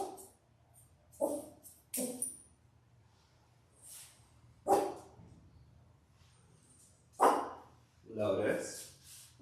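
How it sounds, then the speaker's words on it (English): A goldendoodle being groomed gives several sharp barks and yips, spaced irregularly and fairly close, with a low steady hum from grooming equipment underneath and people talking between the barks. "What are you barking at,"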